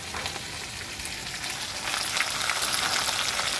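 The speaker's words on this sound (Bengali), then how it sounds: "এখন দিয়ে দেবো আদা রসুন বাটা, 2 চামচ দিলাম" Ginger garlic paste frying in a hot pan for a fish dish with potatoes, giving a steady, dense sizzle that grows a little louder halfway through, with no talk.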